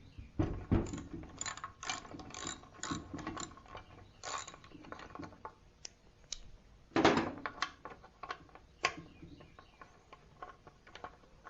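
A hand ratchet clicks in quick bursts while loosening a 1/2 inch bolt on a small L-head engine, with a few pauses and a louder burst partway through, close up and with no talk.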